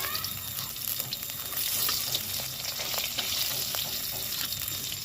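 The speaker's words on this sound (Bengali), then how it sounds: "এবার আমি ফুলকপিটা ভেজে নেবো" Cauliflower pieces frying in a pan make a steady, close hiss of hot oil that runs the whole way through, with scattered crackles and spatters and no talking.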